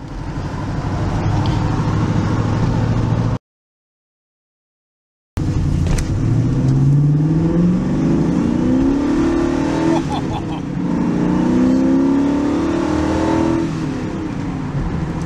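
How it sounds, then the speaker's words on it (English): TVR Chimera 400HC pulling hard in fifth gear: loud in-car engine roar rises steadily in pitch after a short break, with wind and road noise around it. "We're accelerating. and away we go."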